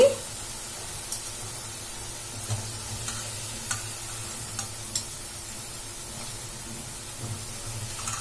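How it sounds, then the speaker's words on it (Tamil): Drumstick leaf vada snacks fry in hot oil with a soft, steady sizzle and hiss, and faint taps and clinks from a utensil sound now and then. "இப்ப எல்லா பக்கமே நல்லா ஆயில ஃப்ரை ஆகி வரட்டும்."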